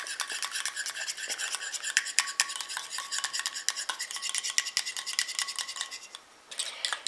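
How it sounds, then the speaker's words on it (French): A small utensil stirs together the oil and water phases of a calendula cream in a little container, giving a steady, close scraping and clinking rhythm that fades briefly near the end. "Et je continue à mélanger comme ça jusqu'à ce que ma prépa épaississe"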